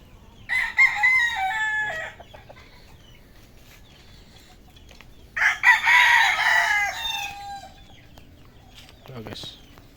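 Roosters crowing nearby, two long loud crows a few seconds apart and a shorter call at the end, over a quiet background with some faint low talk.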